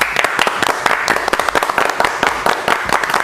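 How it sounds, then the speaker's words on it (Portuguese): A studio audience gives a burst of applause to vote in a televised debate, steady, dense clapping from many hands, close and loud throughout. "Quem acha que o Cassino tá com a razão, palmas."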